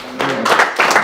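Brief clapping in bursts, loud and close, rising in a few uneven waves within about a second.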